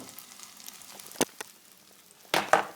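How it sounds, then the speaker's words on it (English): Cheddar cheese being stirred in a pot as it melts: soft sizzling underneath, with a few sharp spoon scrapes and knocks against the pot, the last pair louder and close together. "we're just going to mix that around a bit until that also has melted as well"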